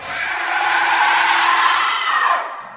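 A loud, sustained scream bursts from a goddess statue in an animated horror tale, high and piercing, holding for over two seconds before cutting off.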